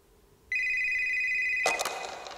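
A telephone rings from a phone booth prop during a stage performance on a Korean music show: a steady electronic ring for about a second, close and clear, then cut off by a loud burst of noise.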